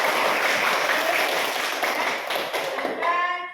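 A classroom crowd of students gives a short burst of dense, close clapping that fades out after a few seconds, with a voice starting to speak near the end.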